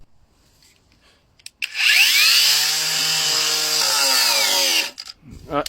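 Parkside angle grinder with a large disc cutting a groove into a piece of wood, a loud close whine rising as it bites, grinding steadily for about three seconds and then spinning down.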